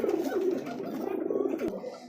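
Domestic pigeons coo in low, throaty, rolling calls, close and moderately loud, with a faint background murmur.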